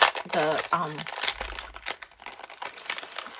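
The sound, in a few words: crinkling paper while unpacking a craft box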